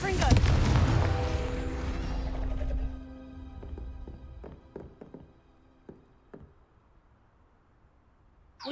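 A fiery Confringo blasting spell in Hogwarts Legacy bursts out loud and booming, roaring for about three seconds before fading into a string of scattered sharp thuds and taps.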